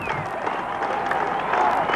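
A cricket crowd at a 1994 Test match in Kandy, Sri Lanka, cheers and applauds in a steady distant roar while a commentator talks over it.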